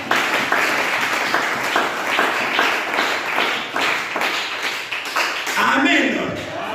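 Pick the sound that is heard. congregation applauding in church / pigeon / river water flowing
congregation applauding in church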